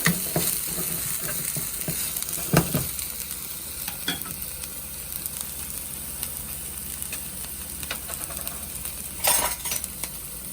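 Chicken drumsticks frying in a pan until golden brown for a lemongrass-sauce dish: a steady, loud sizzle runs throughout, with occasional clinks and stirring scrapes, and no one speaks.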